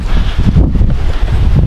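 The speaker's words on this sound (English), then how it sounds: "it's really windy today" Strong wind gusts outdoors in a yard, buffeting the microphone with a loud, continuous low rumble and rustle and no talking.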